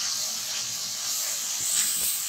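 Masala frying in a pan for tikka boti karahi, a steady sizzling hiss running evenly throughout at moderate loudness, with no voices.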